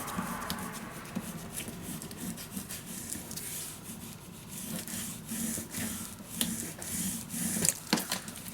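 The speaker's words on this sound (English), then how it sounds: "just bend this nicely with your bone folder, nice and flat" A bone folder rubs steadily back and forth over paper to crease and flatten it, producing a soft continuous scraping close up, with a few light taps near the end.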